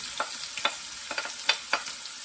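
Garlic and onion frying together in a pan give a steady crackle with small stir clatters at roughly regular intervals, close up, with no talking.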